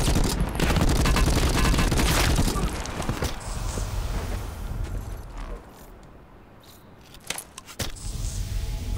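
Bursts of rapid gunfire crackle in Call of Duty Blackout, a dense close volley early that thins into scattered shots and sharp cracks later, with clattering game noise around.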